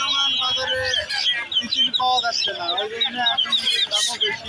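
Baby chickens for sale at a bustling North Bengal village market, Dhaper Hat, giving dense, overlapping high chirps and peeps up close, with crowd voices murmuring underneath.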